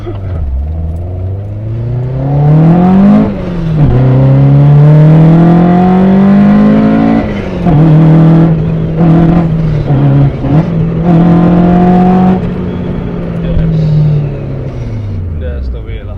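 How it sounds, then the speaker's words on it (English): A Toyota AE86 with a naturally aspirated 9A-GE engine revs loudly. The pitch climbs and falls across several pulls through the gears, and the engine drones steadily and sits close throughout. "pure raw power, pure sound. This is what AE86 is all about lah."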